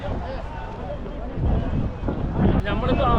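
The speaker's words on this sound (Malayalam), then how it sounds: "ഭയങ്കര കാറ്റ് ഇവിടെ കാറ്റെന്ന് വെച്ച് കഴിഞ്ഞാൽ ഒരു രക്ഷയില്ല" Strong wind buffets the open outdoor lanes of a goat market in Saudi Arabia, a continuous rushing roar across the microphone with gusts swelling midway, while someone talks over it.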